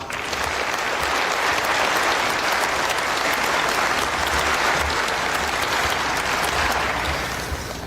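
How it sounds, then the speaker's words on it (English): A graduation audience applauds the class of 2020, steady dense clapping that stays loud and even for the whole stretch with no voices over it. "Let's give all of you a round of applause."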